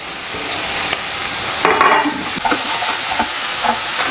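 Curry leaves and coriander sizzling in hot oil, a steady loud crackle with brief sharper pops and spatters throughout, no voices.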